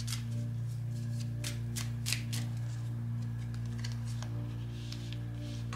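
Oracle cards are shuffled and drawn, giving soft repeated papery riffles and slides above a steady low hum, fairly close and continuous with no talk.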